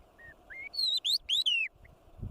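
A drongo calls near a group of meerkats in the wild, giving a short series of clear, whistled chirps and sweeping tweets from close by over quiet ambient background.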